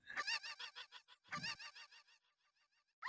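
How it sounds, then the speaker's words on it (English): A cucco chicken from the video game Zelda: Majora's Mask clucks in a rapid series of loud squawks, then repeats more faintly as an echo that fades away, followed by one sharp squawk at the end. "That echoing chicken's pretty funny."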